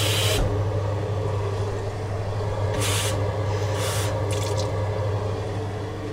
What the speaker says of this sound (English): you're going to have to fill it to the top with water